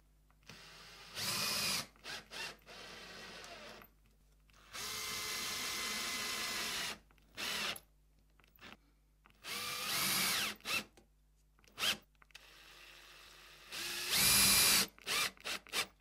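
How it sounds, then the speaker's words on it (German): A power drill drives a screw into wood while a coat rack is being built, whirring in several separate bursts of differing length with short gaps between them, close and fairly loud, and no talking. "Jagen wir erstmal eine Schraube durch"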